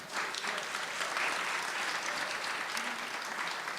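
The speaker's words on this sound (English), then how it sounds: "Can we give them a round of applause?" A crowd at a Brooklyn Pride kickoff ceremony at Brooklyn Borough Hall applauds in a sustained, dense wash of clapping that holds steady and fairly distant throughout.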